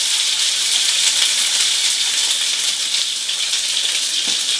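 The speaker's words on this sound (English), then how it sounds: "I'm going to pan sear this." Rib eye steak searing in a very hot pan of olive oil and butter, a steady loud broadband sizzle that crackles on without a break and with no voices over it.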